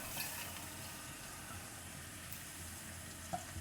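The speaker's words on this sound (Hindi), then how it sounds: "अब हम इसमें उबले हुए चने शामिल कर देंगे" Boiled chickpeas frying in a pan, giving a steady, moderate sizzle with faint stirring scrapes and a small clink near the end, with no talking.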